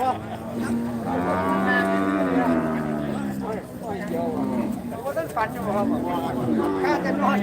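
Cattle at a Thai livestock market moo repeatedly in long, loud, drawn-out calls, several animals overlapping near and far, with market chatter and hoof sounds in the background.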